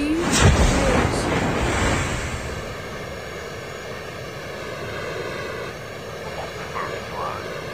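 The Jackal plane in the Call of Duty Mobile video game flies with a steady, broad engine roar and rushing wind noise, louder at the start and then holding an even drone.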